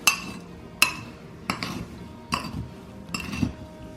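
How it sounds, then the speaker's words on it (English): A spoon stirs white granulated sugar into fresh destemmed blueberries in a bowl, giving four or five sharp clinks against the dish spaced about a second apart, each trailed by soft scraping, close and alone. "I have 1 cup of white granulated sugar. And I've got a spoon. I'm going to stir this in."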